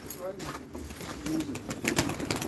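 Soft pigeon cooing comes through amid outdoor bustle and people talking nearby, with a few chirps scattered in.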